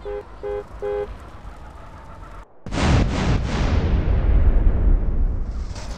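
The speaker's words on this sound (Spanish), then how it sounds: "Pero qué explosiones tan más chidas, y alcanzan un buen rango de destrucción" A loud, sustained in-game explosion triggered by a CLEO mod cheat in a GTA-style game, a sharp blast followed by several seconds of heavy rumbling debris, preceded by a few short electronic beeps.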